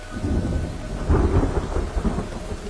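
Thunder rumbles low and steady under heavy rain pouring outdoors, loud and continuous with no speech.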